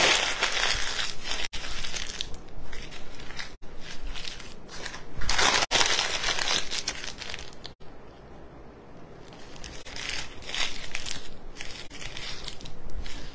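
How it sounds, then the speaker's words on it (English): Paper bags being crumpled and scrunched up for a wreath make loud, close crinkling and crackling in long bursts, with brief pauses between handfuls. "I would scrunch them up and then go back and and kind of open them up"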